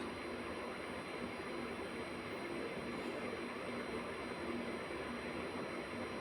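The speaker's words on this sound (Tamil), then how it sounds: "மிக்சி ஜாரில் சேர்த்து ரவை பதத்துக்கு நம்ம வறுத்து எடு அரைச்சி எடுத்துக்கலாம்" A mixer grinder grinding roasted poha (flattened rice) down to a semolina-like texture gives a steady, continuous whirring roar, fairly faint and unchanging for the whole stretch.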